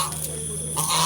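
A goose over 15 years old that wanders into an evening religious lecture class gives a brief honking call, heard close and fairly loud against a steady hum from a sound system.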